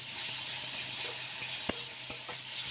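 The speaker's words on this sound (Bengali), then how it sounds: "এই দেখো ম্যাশ করে রাখা যে কুমড়োটা সেটা আমি একটা বাটিতে তুলে রেখেছিলাম এবার এটা এর সাথে ভাজা ভাজা করে নেবো" Mashed pumpkin fries with onion in a pan, giving a steady, fairly quiet hiss and sizzle with a few soft scrapes of stirring.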